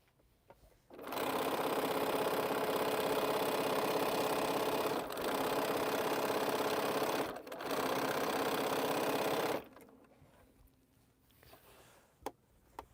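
A sewing machine stitches quilt rows together in one long, steady, loud run with two brief pauses, then stops, leaving faint room noise and a few small clicks.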